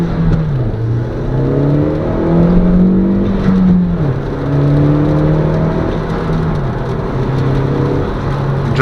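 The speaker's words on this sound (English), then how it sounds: "you can see how loud this car is when I take off" A 2014 Kia Forte Koup with the 1.6L turbo engine pulls away from a stop, the loud in-cabin engine note rising in pitch through the gears with brief dips at each shift, steady and dominant throughout.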